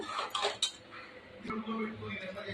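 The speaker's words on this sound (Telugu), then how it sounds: "ఇప్పుడు దీన్ని బాగా కలుపుదాము." A spoon scraping and clinking against a pressure cooker pot while cooked dal with brinjal is mixed, a few close metallic taps over soft kitchen background.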